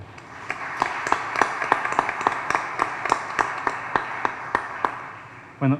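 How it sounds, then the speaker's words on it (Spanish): Audience applause at a literary panel on memory, heard as a modest, fairly thin round of scattered claps in an indoor hall, steady for several seconds before fading, with a brief voice at the close. "Héctor, un aplauso también para Julián."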